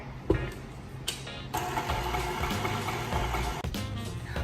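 An electric mixer blends vanilla extract into wet cake batter for a funfetti cake, a close, steady whirring drone with a couple of brief knocks as the beaters start and touch the bowl.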